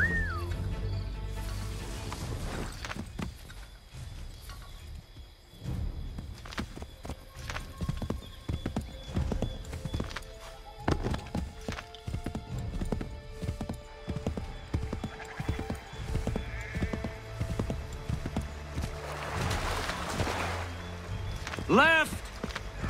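A horse gallops in Assassin's Creed III Remastered, with rapid clip-clopping hoofbeats running throughout, a neigh near the end, and game music and effects layered underneath.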